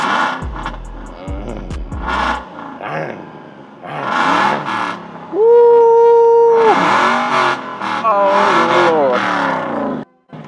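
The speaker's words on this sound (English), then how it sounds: "beautiful sounds from the Aston Martin to my left there" A powerful Aston Martin engine revs loudly at a car show in Ghana, its pitch climbing and holding before dropping away, amid other roadside noise.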